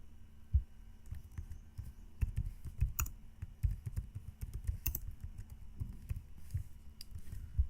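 Fingers type on a computer keyboard in quiet, irregular bursts of soft clicks and taps, some keystrokes landing harder than others, with no voices present.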